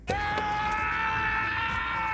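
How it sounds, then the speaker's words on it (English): A man's loud, sustained cry of pain, the real scream of an actor as Aragorn after breaking both toes kicking a real helmet in a movie scene, holds steady for about two seconds with no other voices. "And yes, that scream is generally real"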